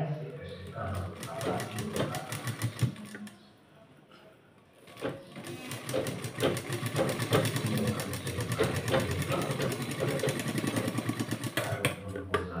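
A sewing machine runs steadily, stitching piping onto a blouse, its rapid mechanical clatter close and continuous after a brief pause, while someone talks over it.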